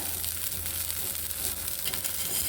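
Adai dosa frying in oil on a pan, a steady close sizzle and crackle of hot oil with faint scraping, continuous without pause.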